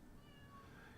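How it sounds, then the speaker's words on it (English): A cat meowing from somewhere behind a closed office door, a single faint drawn-out cry in the background over low room hum. "That is the big old cat trying to get in so that she can have a comfy spot"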